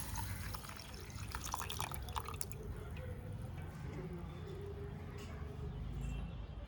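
Water poured into a ragi (finger millet) mixture gives a faint, soft trickle and drip against steady background noise, with no talking.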